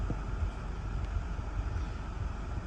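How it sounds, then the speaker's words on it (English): Strong gusting wind of about 40 to 60 mph ahead of a severe thunderstorm in St. Petersburg, Florida, roars steadily and loudly against the microphone, with blowing dust and mist and no voices. "strong winds have already taken down a palm tree, a large 25-foot palm tree, definitely gusting 40 to 60"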